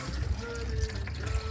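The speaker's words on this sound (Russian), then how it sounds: "Вот такое масло сливаем." Dark, used engine oil from an overdue oil change draining out after a flush, a steady close liquid trickle and gurgle lasting about a second and a half.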